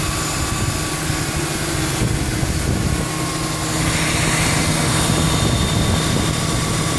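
A car engine runs after a thermostat replacement, a loud, close, steady mechanical roar that holds fairly even throughout with a slight rise partway, and no talking.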